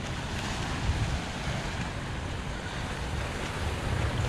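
Ocean waves at Rock Beach in Pondicherry at sunrise: a continuous broad wash of surf mixed with wind buffeting the microphone, steady and fairly loud with no voices.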